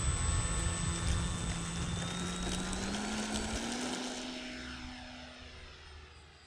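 An E-flite T-28 RC model airplane takes off and its electric motor whines steadily, the pitch climbing gradually as the plane moves off and fades slightly into the distance over an open field.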